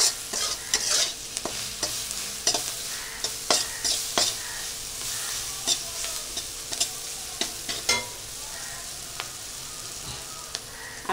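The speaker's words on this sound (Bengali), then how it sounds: "আমি আলতো আলতো করে আধা আধা ভেজে নিলাম পেঁয়াজ আর কাঁচা লঙ্কা।" Onion and green chilli frying gently in a pan, a steady sizzle punctuated by frequent sharp scrapes and clacks of a spatula stirring, close and fairly loud.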